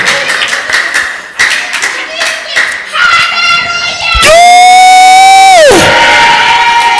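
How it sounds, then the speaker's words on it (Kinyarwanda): A church congregation claps loudly and steadily at a lively worship service while a preacher exclaims over it, ending in a loud sustained electronic tone. "yikomera amashyi menshi cyane"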